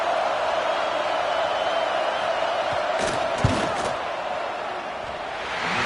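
Stadium crowd noise from a college football video game, NCAA 26, as a field goal attempt lines up: a steady, loud roar of massed voices with a brief swell and a few sharp bumps midway, no clear talk.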